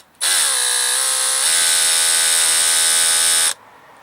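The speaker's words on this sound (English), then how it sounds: "then we'll drill it out" A power drill whines steadily while drilling out a carburetor jet on a Troy-Bilt 2410 snow blower, a loud, close, continuous high-pitched motor tone lasting about three seconds that shifts pitch slightly partway through, then stops abruptly.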